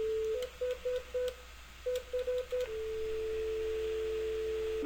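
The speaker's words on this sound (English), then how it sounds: "we received a dial tone. We got a dial tone when we called in." Telephone tones from a router through a PSTN simulator: a series of short beeps in two bursts, then a steady continuous dial tone that holds to the end, fairly quiet with a faint background hiss.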